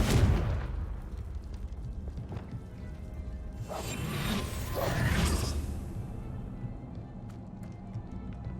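A fiery Confringo spell cast in the video game Hogwarts Legacy, heard as a bright whooshing burst that swells over a second or two amid a dense, rumbling game soundscape.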